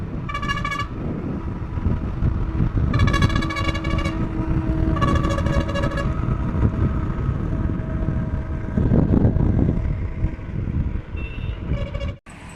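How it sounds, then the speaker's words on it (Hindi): Riding an Okinawa Praise Pro electric scooter through city traffic: steady wind and road rumble throughout, with several loud bursts of nearby vehicle horns and honks, and a sharp knock near the end. "तो हमने दौड़ाई गाड़ी पूरी 40 पे चली थी इको मोड पे"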